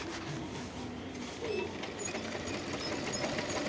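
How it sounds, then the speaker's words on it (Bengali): A sewing machine stitches fabric for a small child's frock, running with a quiet, steady mechanical whir and faint rapid ticking throughout. "এরপর আমি অপরটি সেলাই করে নিচ্ছি।"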